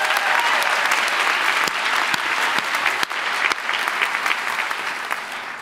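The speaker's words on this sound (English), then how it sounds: "let's give her a round of applause" Audience applause at a Harvard Graduate School of Education graduation convocation, a dense, steady clapping from a large crowd that holds at full strength for several seconds before easing slightly at the end.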